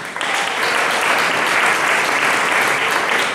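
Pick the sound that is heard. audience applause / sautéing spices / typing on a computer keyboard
audience applause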